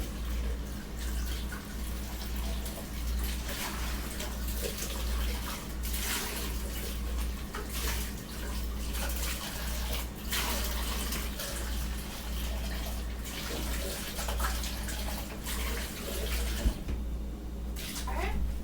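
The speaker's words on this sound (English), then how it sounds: "we're gonna wash our cup" Tap water runs steadily into a sink while a cup is washed under it, a continuous close splashing with a low hum underneath and occasional clinks.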